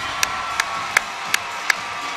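Rowdy home crowd at a girls' state semifinal basketball game between the Fort Gibson Lady Tigers and the Elgin Lady Owls, a steady loud roar of cheering broken by five sharp, evenly spaced claps or bangs.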